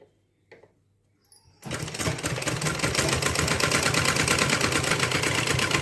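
After a quiet start with a couple of small handling knocks, a sewing machine starts up and runs continuously, stitching piping onto a blouse, a loud close rattling whirr with rapid regular needle strokes that holds steady to the end.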